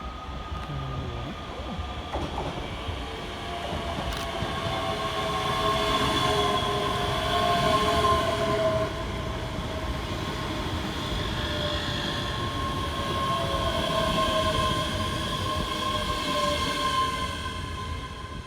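Scotrail train 385104 pulls into Edinburgh Haymarket station with a loud, sustained rumble of wheels on rail and a faint squealing whine. The sound swells and lingers as the train rolls past up close.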